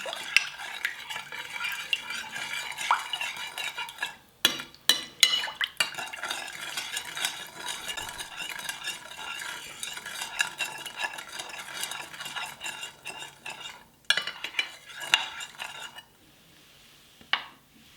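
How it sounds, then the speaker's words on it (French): A spoon stirs salt into water in a bowl while making Neapolitan pizza dough, with quick repeated scraping and clinking close up, a few sharper knocks against the bowl, and a brief pause near the end. "Et je vais mélanger le sel dans mon eau."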